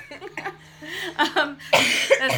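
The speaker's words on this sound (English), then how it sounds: "Sorry, I have a cough." A few short coughs up close, mixed with throat noises and a brief vocal sound, loud and distinct.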